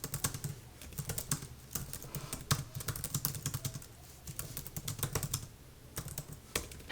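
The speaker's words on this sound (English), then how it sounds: "I'll do a little keyboard typing test really quickly." Rapid, uneven clicking of keys on a 2015 13-inch MacBook Pro laptop being typed on steadily for several seconds, close up, with no voices.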